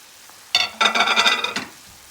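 Peppers and thyme frying in a pan as they are stirred, a short close sizzle and scrape lasting about a second after a quiet start.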